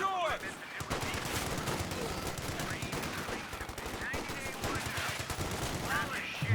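M1919 machine guns fire sustained bursts in Company of Heroes 2 amid battle noise and other gunfire, with a commentator talking over the action.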